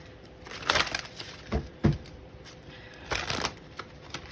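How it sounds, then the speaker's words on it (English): Tarot cards are shuffled by hand in a quiet room, with several short crisp riffling bursts separated by brief pauses. "Okay, let's shuffle."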